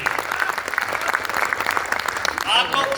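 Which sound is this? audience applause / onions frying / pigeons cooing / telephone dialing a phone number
audience applause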